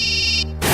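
A phone ringtone in a Hindi dubbed movie: a bright, sustained electronic tone with layered harmonics plays loudly for a moment, then breaks off into a short burst of noise.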